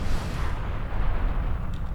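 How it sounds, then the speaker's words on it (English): Starship cannons firing a scatter volley in Star Trek Online, a dense rumbling barrage of low booms and bursts rolling continuously and loudly. "This is why people don't like cannons, because scatter volley goes everywhere except the ship."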